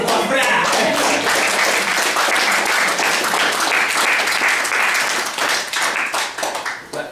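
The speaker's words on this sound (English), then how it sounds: "Let's get a round of applause for that." An audience at a poetry reading bursts into loud, sustained applause for a poet, a dense wash of clapping that holds steady for several seconds before thinning out at the end.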